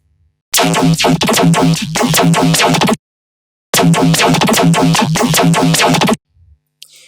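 Laser choppy bass synth patch built in Serum, playing two loud bursts of rapid rhythmic chopping with harmonic tones, separated by a short gap of silence, no voice over it.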